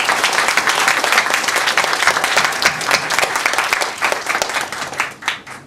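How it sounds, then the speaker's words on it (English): A conference audience gives its four panelists a big round of applause, dense and loud, then thins out and fades toward the end. "I'd like to have a large round of applause for our 4 panelists"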